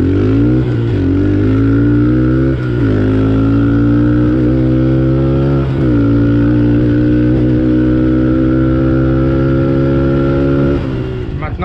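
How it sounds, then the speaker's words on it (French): A Honda CRF110 dirt bike engine roars close and loud at top speed along a path, holding a steady high-revving drone with brief dips at gear shifts before climbing again. "On va tester la vitesse max de la 110 CRF. On va essayer d'abord sur le chemin et après sur la route."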